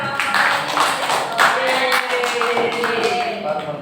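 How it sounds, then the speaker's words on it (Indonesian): A group of students claps together in a classroom during an academic supervision lesson, a dense, steady patter of hands mixed with chatter and voices. "Tepuk tangan dulu buat"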